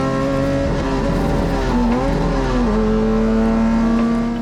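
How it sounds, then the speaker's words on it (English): A race car at the start of a race with shifting problems, its engine droning loud and close with a steady tone that dips and wavers as it struggles through a gear change, then holds a sustained high note. "Race 2 starts, shifting problems immediately."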